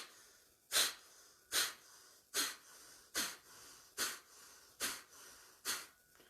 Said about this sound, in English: We're going to do the fire breath.